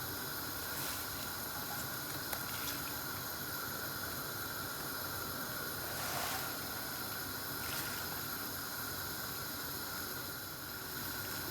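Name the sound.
spinach blanching in boiling water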